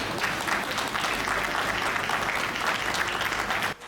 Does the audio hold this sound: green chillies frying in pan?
no